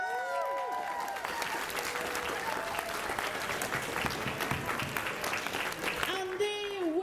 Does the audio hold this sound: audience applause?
yes